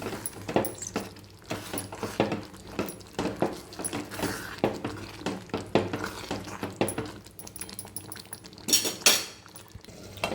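A spoon stirs garam masala into ridge gourd curry in a pan, giving repeated close clinks and scrapes of metal on the pan in an irregular rhythm, with no talk.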